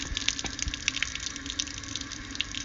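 Coolant bubbling and trickling from a heater hose end held up during a Firestorm heater install on a Polaris 900 XP, a steady close watery gurgle with small splashy bursts throughout, no talking.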